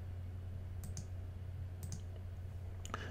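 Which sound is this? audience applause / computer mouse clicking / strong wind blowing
computer mouse clicking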